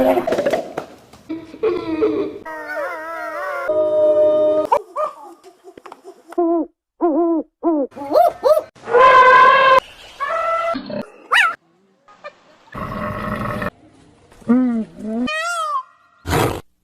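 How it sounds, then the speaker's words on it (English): A sequence of different animal calls, among them an owl hooting and a lion roaring, heard as short separate bursts: hoots, growls and roars broken by brief pauses, loud and close throughout. "to recall the sounds of different animals, so have a look at this video"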